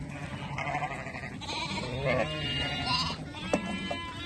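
Sheep and lambs from a flock of 43 ewes with their young bleat repeatedly, several overlapping calls near and farther off, with a voice talking briefly among them.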